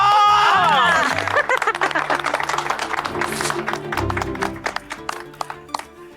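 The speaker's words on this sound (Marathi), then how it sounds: "प्रमुख पाहुणे आलेत, करूया टाळ्यांचा गडगडा" Crowd applause at a Holi celebration greeting the chief guests, lively clapping mixed with excited voices and cheering that gradually thins out.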